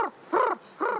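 A human voice imitates a red-winged starling call with three short, harsh calls in an even rhythm, close and clear.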